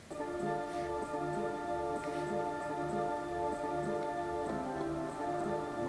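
A hip-hop beat with a layered melodic sample, bright and steady, looping in a tight rhythm throughout with no talking.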